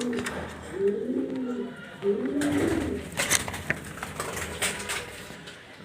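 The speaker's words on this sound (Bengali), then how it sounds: "এখানে আছে এটা বলুন আর কবুতর এটা নাম হচ্ছে আলাদিন লাইন" Male racing pigeons of the Aladdin line, one a red checker, give two low, throaty coos close by, while someone talks over them and a few light knocks follow.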